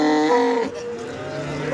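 A cow moos loudly and close by at a cattle market, with one drawn-out call that trails off and faint background activity around it.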